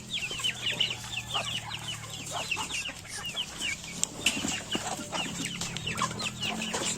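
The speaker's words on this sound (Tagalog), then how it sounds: "Feeding time. Native chicken." Native chickens at feeding time, steady overlapping clucks and soft calls from a flock, fairly close, with a continuous low background hum and no talking.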